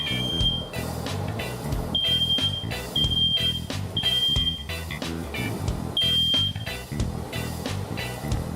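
A high-pitched smoke alarm beeps in short repeated bursts, roughly once a second, over loud, busy kitchen background noise and clatter.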